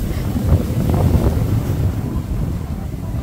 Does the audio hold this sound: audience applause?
no